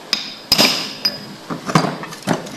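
A part of a car AC compressor is struck with a hammer about six times in an uneven rhythm, each sharp metallic hit close and ringing briefly.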